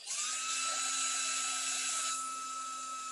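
A small handheld air dryer blowing on freshly painted pumpkin, giving a close, steady high-pitched motor whine with a constant hum, running loud and alone for about three seconds.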